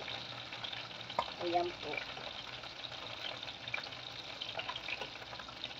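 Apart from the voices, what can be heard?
frying food in a pan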